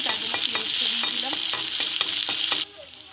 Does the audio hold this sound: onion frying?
yes